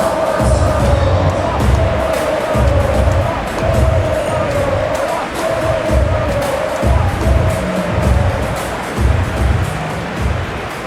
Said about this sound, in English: Crowd rises for the national anthem of Sweden.